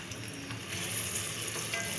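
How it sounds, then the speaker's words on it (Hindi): Chopped onions fry in oil with a close, steady crackling sizzle that swells slightly partway through, heard alone at a soft level. "आपने प्याज को इतनी देर तक फ्राई करना है जब तक कि ये गोल्डन ना हो जाए"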